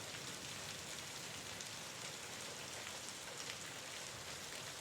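Steady rain falls without a break, a dense, even, close hiss of drops spread across the whole clip with no voices.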